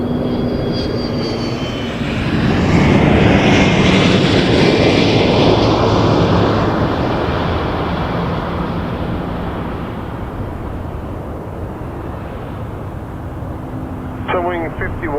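Gulfstream jet taking off at Toronto Pearson Airport, a loud broad engine roar that swells and then slowly fades as it climbs away, with a voice speaking faintly near the end.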